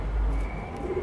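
A pigeon coos briefly and softly, one low throaty murmur close by in a quiet setting.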